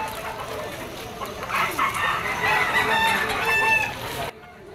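A straight-comb minor blue gamecock stag crows loudly and close, one long drawn-out call that rises and fades, with faint clucking and background noise around it.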